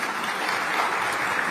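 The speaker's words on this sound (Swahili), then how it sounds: "ningeomba kutumia nafasi hii kuwaomba wakupigie makofi mengi sana" An audience applauds a guest of honour at a public gathering, a steady, even wash of many clapping hands that fills the whole moment without a break.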